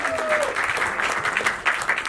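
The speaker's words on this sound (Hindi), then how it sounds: "उसके जोरदार तालियां बजा दें एक बार आप लोग।" A crowd claps enthusiastically at a film trailer launch event, dense continuous applause filling the space, with a few voices mixed in.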